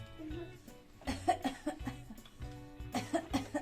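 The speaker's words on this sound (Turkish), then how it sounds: "Öksüreyim mi?" A child pretending to be a doctor's patient gives a series of short, soft coughs in small clusters, with light laughter mixed in, close and quiet.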